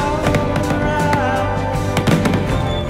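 Fireworks bursting during a recreated May Ball scene in a film, heard as a steady, dense mix of pops and crackles layered over continuous music, loud throughout with sharper bursts near the start and toward the end.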